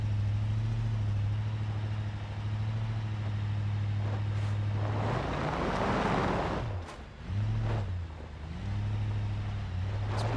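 An off-road vehicle engine in the BeamNG Drive video game climbs a mountain, droning low and steady, then surging as the throttle is floored, with a brief dip before the revving resumes.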